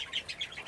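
Pet birds in a breeding aviary give quick, high chirps in a steady pulsing series, close and moderately loud, with no talking.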